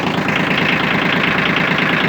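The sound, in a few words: Yanmar F155 mini tractor engine running smoothly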